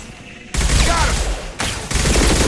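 Shotgun fire in the video game Mass Effect 2, heavy, loud blasts that start abruptly and leave long, noisy, rumbling sustains with a brief gap between bursts.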